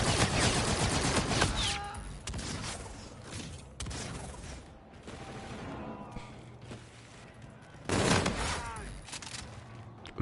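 Shotguns fire repeatedly during a Gun Game mode match in a video game, heard as loud, close blasts and dense overlapping volleys that ease off, then flare up again near the end.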